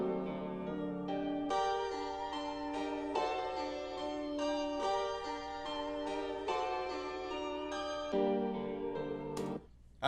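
An FL Studio melody sample pitched up one octave plays as bright, repeating synth-like phrases in a steady rhythm over a low sustained bed, with a short sharp burst near the end.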